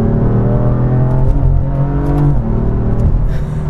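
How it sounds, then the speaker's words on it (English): A BMW M4 with a dual-clutch (DCT) gearbox accelerates hard, its loud engine climbing through quick upshifts with brief dips in pitch between gears, close and continuous with no talk. "I love the responsiveness and the speed of the shifts that the DCT offers."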